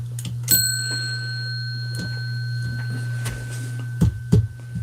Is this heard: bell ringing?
yes